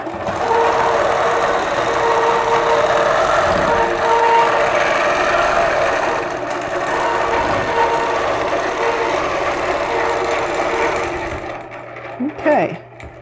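A sewing machine quilts a fabric block with a ruler guiding the stitching, a loud, steady mechanical whir and rapid needle clatter running continuously, then stopping near the end with a few small clicks.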